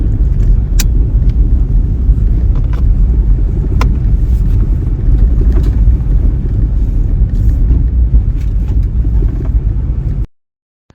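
A car drives along Hell's Backbone Road through forest in Utah's back country, giving a steady, close engine and tyre rumble with a few faint clicks throughout, no voices, cutting off abruptly near the end.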